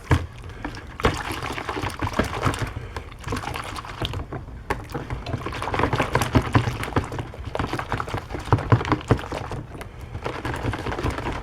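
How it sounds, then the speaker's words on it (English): An air filter is sloshed around in a container of water mixed with dish soap, giving continuous splashing and swishing liquid sounds with a steady, busy rhythm throughout. "I'm going to take the filter, slosh that around."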